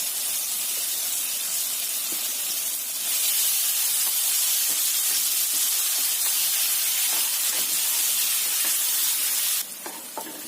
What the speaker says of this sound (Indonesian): Tumis bumbunya sampai matang.